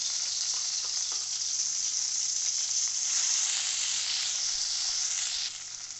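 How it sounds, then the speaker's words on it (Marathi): Ground masala gravy fries in hot oil in a kadhai, giving a steady, close, continuous sizzle and hiss with a few faint stirring clicks, and no voices. "कढईमध्ये तेल टाकायचं आहे. ग्रेव्ही तेलावर फ्राय करून घ्यायची आहे."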